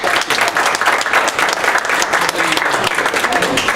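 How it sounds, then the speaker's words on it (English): Loud, sustained audience applause at a meeting, dense clapping filling the room steadily throughout without a break. "round of applause"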